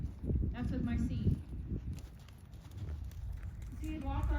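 A gaited horse walking under a rider during a dressage session, its hooves clip-clopping in a steady rhythm while a person talks over them.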